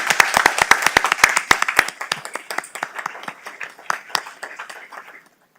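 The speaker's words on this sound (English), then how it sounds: "let's take a moment and give them all a big round of applause" An audience at a school board of education meeting breaks into a round of applause, dense clapping near and lively at first, then thinning out to scattered claps before stopping.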